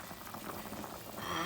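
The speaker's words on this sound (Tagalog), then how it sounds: "Ahora guys, vamos a echar el sayote." Chayote pieces drop into a pot of boiling chicken tinola soup, giving a steady close bubbling and simmering sound with soft splashes, growing slightly louder toward the end, with no talk over it.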